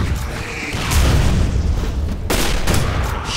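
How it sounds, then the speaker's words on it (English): Grenade blast in a first-person shooter video game: loud, deep booming explosions, one near the start and another heavier burst around two seconds in, with rumbling tails and no talking. "I lost sight of the flight path of that grenade."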